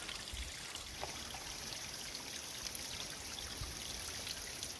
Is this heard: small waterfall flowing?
yes